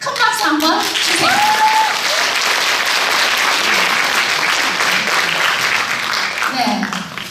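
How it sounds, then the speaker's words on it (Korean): Sustained audience applause at a Gyeongju traditional music performance event celebrating a newly founded gayageum and geomungo ensemble, dense and steady for several seconds, with brief voices audible at the start and end. "큰 박수 한번 주세요."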